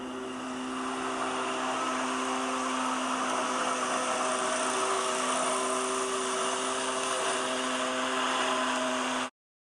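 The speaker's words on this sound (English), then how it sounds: "A lawnmower roars across the yard." A lawnmower engine drones steadily and loud across a yard, a continuous even roar that holds for about nine seconds and then cuts off abruptly.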